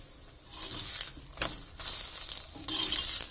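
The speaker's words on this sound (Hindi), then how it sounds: "थोड़ा सा दबा के सेकेंगे और उतार लेंगे" A sweet paratha stuffed with semolina and mawa gujia filling sizzles steadily as it is pressed and roasted on a hot pan, with hissing surges rising and falling as it is pushed down.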